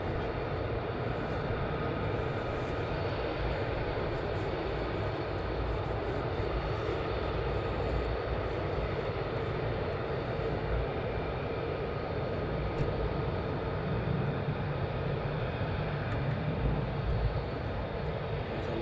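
F-35 jets taxi at RAF Lakenheath, a loud, continuous engine roar and whine holding steady and near throughout, with no talk over it.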